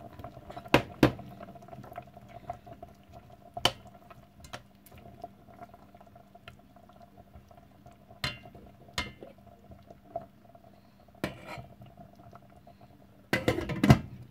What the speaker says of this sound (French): Maintenant, je vais mettre les carottes dedans.